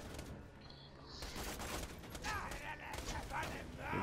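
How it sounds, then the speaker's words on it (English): Gunfire from the video game Borderlands comes as a dense, fairly faint stream of rapid shots and impacts layered with other game effects over the whole stretch. "I'm just shooting at the ground, hoping my Pimpernel shots will hit him."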